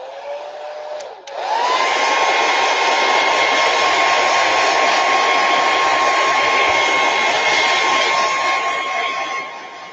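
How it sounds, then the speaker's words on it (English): A hair dryer switches on after a second of quiet and runs loud and steady, a close, even whoosh with a constant whine that barely changes until the end. "I'm going to hit this with the dryer"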